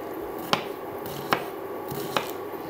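A knife chopping an onion into thin rings on a cutting board, three separate distinct chops spaced evenly apart, close and clear against quiet kitchen background.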